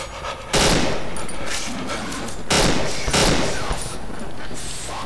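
Gunfire from a weapon in the horror video game Cry of Fear, loud close shots and bursts with a sharp attack and a long ringing tail, repeating several times over a few seconds.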